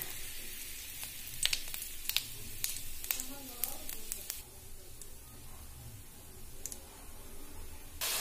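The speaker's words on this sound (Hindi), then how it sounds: "तेल मेरा अच्छे से गर्म हो गया अब मैं इसमें डाल दूंगी छोटी चम्मच जीरा और डाल दूंगी तेज पत्ता" Cumin seeds and a bay leaf sizzle in hot oil, giving a soft hiss with scattered crisp pops and clicks, fairly faint, while someone talks.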